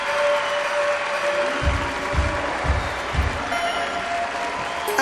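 Crowd applause in the London 2012 video game after a diving attempt, a steady wash of clapping with a few low thumps partway through, moderately loud and without speech.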